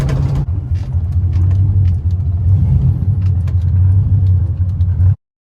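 A car with a cut-out sunroof opening drives along the road, giving a loud steady low engine and road rumble from inside the cabin that stops abruptly near the end.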